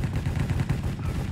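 Dense, continuous gunfire in the Minecraft Hypixel Cops and Crimes game mode, a loud rapid spray of shots with no clear gaps, heard alone for the whole stretch.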